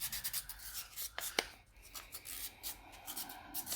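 Close, quiet scratchy rubbing strokes of hand sanding a 3D-printed plastic part, in irregular bursts with brief pauses.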